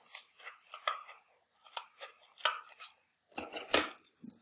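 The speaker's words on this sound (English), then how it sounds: "get my scissors in there" Scissors snip repeatedly through cardboard for sculpture work, a series of close, crisp crunching cuts in uneven bursts with short pauses between them, no talking.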